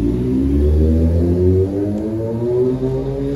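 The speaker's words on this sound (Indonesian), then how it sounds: "Bentar, ada motor JetX." A JetX motorcycle engine revs nearby, rising and falling in a loud, harmonic drone that holds for several seconds, with no voices.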